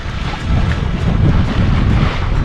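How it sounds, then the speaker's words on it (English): A sailboat moves quickly behind reefs in Panama in a light breeze on flat water. Loud, steady wind buffets the microphone over a low rush of water along the hull, and no one speaks. "So nice when you're sailing behind these reefs with a nice little breeze and it's flat AF"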